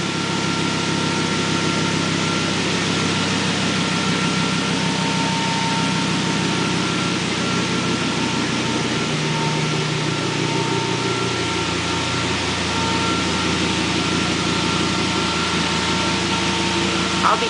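A 1955 Chevy shorty wagon fitted with a Colorado 5-cylinder engine idles steadily just after its first start, a loud, close, continuous rumble with a slight dip in pitch partway through and no talking.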